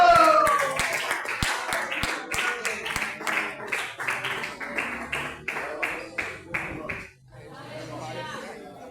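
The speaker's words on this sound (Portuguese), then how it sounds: "Vamos receber o céu de Deus com as palmas bem fortes" A church congregation claps hands together in a steady, loud rhythm during worship for several seconds, then the clapping stops and quieter voices follow.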